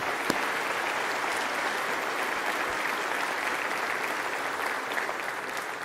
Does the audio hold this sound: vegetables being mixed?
no